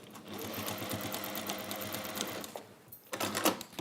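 A sewing machine stitches fabric in a steady, fast, close whirring run for about two and a half seconds, then slows and stops, followed by clicks and fabric handling noises.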